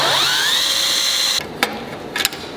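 A power drill whines steadily at high pitch while drilling rivet holes, then stops; afterward a few short metallic clicks and taps follow in a quieter room.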